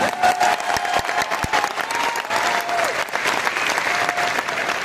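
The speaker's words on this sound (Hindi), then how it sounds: "और इन लोगों की तालियों से इस बात का एहसास होता है कि आपके लिए ये आत्मा से, दिल से ताली मार रहे हैं" Indoor audience applauding Anupam Kher at an RCM Rupantaran Yatra event in Delhi, dense sustained clapping from a large crowd with a few sharp nearby claps, loud and continuous.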